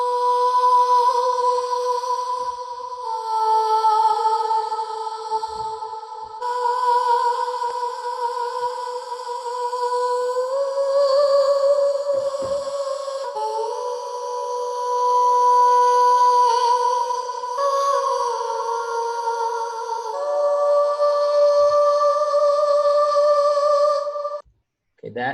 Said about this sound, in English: a vocoder harmony, which I use for most of my tracks